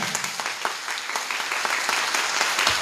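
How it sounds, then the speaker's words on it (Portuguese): A church congregation applauds at the opening of a worship service, a lively, continuous clatter of many hands close by, even in loudness throughout with no voices over it. "Vamos aplaudir o Senhor com toda a força, com alegria"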